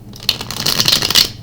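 Stiff tarot cards being shuffled by hand, a steady papery riffling and flicking that runs close and fairly loud for a moment with no voices over it.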